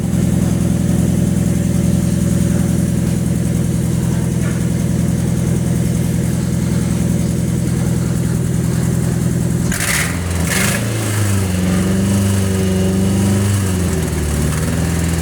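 A car engine held steady at about 2000 RPM, a loud continuous mid-pitched hum with a strong even drone, shifting in tone near the end after a couple of brief clicks.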